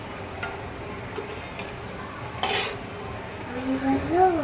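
Fried gourd-leaf pakoras lifted from a pan of hot oil: faint sizzling under scraping and clinking of a utensil against the pan, with a few light taps and a voice speaking briefly near the end.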